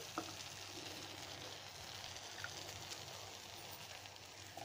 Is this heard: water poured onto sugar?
yes